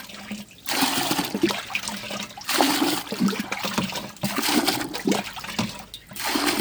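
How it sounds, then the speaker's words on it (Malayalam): Water gushes into a plant container in several separate pours with brief pauses between them, splashing loudly and close by. "ഞാനിതിലിപ്പം നിറയെ വെള്ളം ഒഴിക്കുന്നുണ്ട്"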